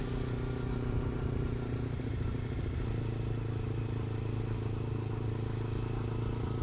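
A motorcycle rides along a city road at a gentle pace, its engine humming steadily and close, with a low rumble and light clatter throughout and no talking.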